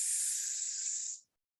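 A voice imitates a hiss with one long, steady, breathy S sound lasting just over a second, then cuts off to silence.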